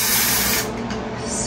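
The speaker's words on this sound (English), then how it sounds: "spray some dry shampoo." Dry shampoo sprayed onto hair for a voluminous 1960s headband bouffant, a close, loud continuous aerosol hiss lasting over a second, then easing slightly softer as the spray keeps going.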